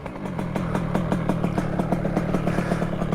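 A two-stroke motorcycle engine runs continuously close by, with a rapid, rattling, pulsing exhaust that holds steady and loud throughout.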